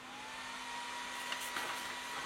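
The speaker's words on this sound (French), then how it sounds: "donc on va allumer l'imprimante" An Alfawise W10 resin SLA 3D printer powers on with a steady, close, even whir and hum, a faint tone running through it and a few small ticks near the end.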